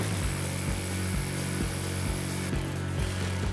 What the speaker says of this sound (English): Now it is time to drill the unit mounting holes